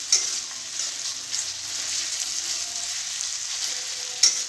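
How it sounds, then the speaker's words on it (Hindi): Onions fry golden brown in a kadhai with a steady, close crackling sizzle and faint stirring clinks, with no voices. "तो गोल्डन ब्राउन हवा जाए एमती कढ़ाई फ्राए करेंगे।"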